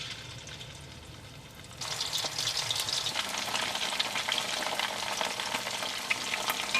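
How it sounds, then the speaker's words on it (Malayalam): Beef pieces for chilli beef hit hot oil, a steady close sizzle jumping louder about two seconds in as more pieces go in, then crackling on without any voice. "ഇനി നമുക്ക് ചൂടായ എണ്ണയിലേക്ക് ബീഫ് ഇട്ടിട്ട് വറുത്തെടുക്കാം"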